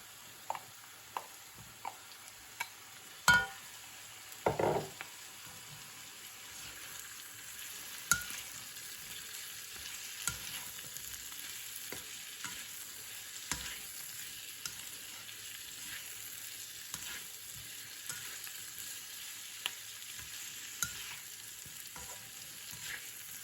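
Carrots frying with garlic and onion in a pan, a faint steady sizzle punctuated by sharp clicks and clatters of the spoon stirring against the pan, heard alone without speech.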